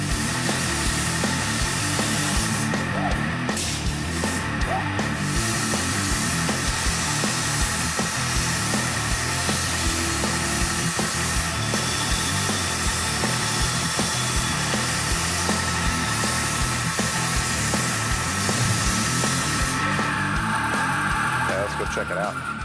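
A 90,000 PSI waterjet cutter slices through aluminum with a loud, unbroken roaring hiss that holds steady throughout, with a few brief higher bursts.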